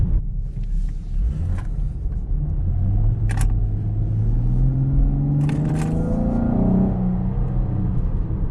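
A 2019 Camaro LT V6 accelerates hard, its engine note climbing and dropping as the transmission snaps quickly through gear shifts, loud and close inside the car.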